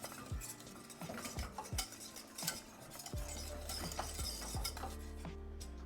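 Sauce for a phyllo chicken pot pie being whisked in a pot, a steady clinking scrape of whisk against metal with repeated strokes, close and moderately loud, no talking.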